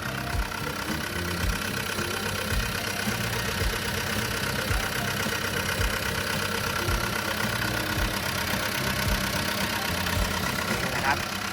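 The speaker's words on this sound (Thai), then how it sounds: "เป็นเครื่องยนต์โคมาสุ 4D95L นั่นเองนะครับ" The Komatsu 4D95L diesel engine of a Komatsu WA100-8 wheel loader idles steadily close by, a low, even knocking chug that runs throughout without pause.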